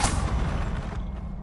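Hogwarts Legacy Expelliarmus spell cast in the video game, a short loud burst with a sharp bang at the start and a brief crackling decay, lasting about a second and a half.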